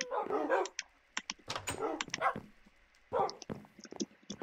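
Several dogs in the Minecraft video game bark in short repeated bursts with brief yips, spaced by pauses, moderately close and fairly quiet.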